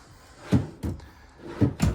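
Drawers sliding open and shut in a 2026 Yellowstone Classic 248BH travel trailer, four quick hollow thuds in two pairs, close by in a quiet room.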